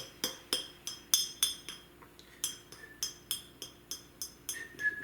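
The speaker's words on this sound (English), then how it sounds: "Let's start with this thing, which I think is that like mason jar thing." A glass mason jar is struck repeatedly with a light object, producing a steady series of bright, ringing clinks at close range.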